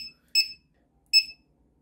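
A LiPo battery voltage checker alarm sounds two sharp, piercing electronic beeps, evenly spaced and very loud, with silence between them, tied to the 3S LiPo pack of a Kyosho Blizzard 2.0 RC snow vehicle.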